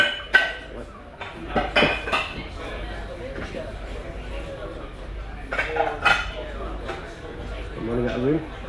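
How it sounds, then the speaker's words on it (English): Dishes and cutlery clink and clatter repeatedly while food is plated in a galley on board a boat, with scattered metallic knocks over a low background hum and faint voices. "now it's time to bring the dishes together"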